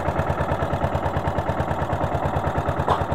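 A worn, partly broken boat engine idles with a steady, rhythmic low throb, close and loud, with no talk over it.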